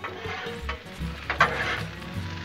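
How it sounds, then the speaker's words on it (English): Potatoes stirred with a spatula on a hot Blackstone griddle, with scraping and clinking over a steady close sizzle. "Give these a stir."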